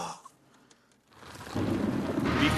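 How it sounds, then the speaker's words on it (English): A thunderstorm with pouring rain heard from a car during driving practice: faint sounds at first, then heavy rain swells into a steady loud wash. "Oh boy, we got a storm. rain comes pouring down."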